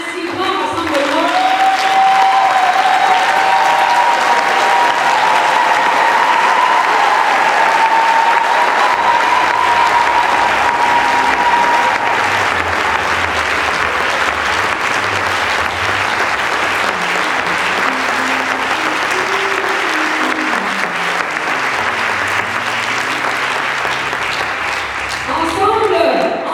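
A large church congregation standing to acclaim the Lord breaks into sustained applause and cheering. Loud, dense clapping and crowd noise continue for the whole stretch, with a voice calling out over it early on.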